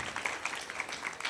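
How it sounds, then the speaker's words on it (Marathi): Applause for a guru at a devotional gathering, a continuous crackle of many hands clapping, moderately faint and steady across the short span with no talk over it. "एकदा गुरुजींसाठी टाळ्या वाजायच्या"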